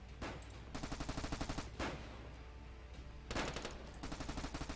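Bursts of rapid automatic machine-gun fire in the World War-era shooter Warfare 1917-1944, rattling in several long volleys separated by short pauses, loud and close with a continuous low rumble of battle underneath.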